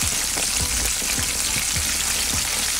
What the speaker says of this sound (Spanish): ya esperemos que se siga friendo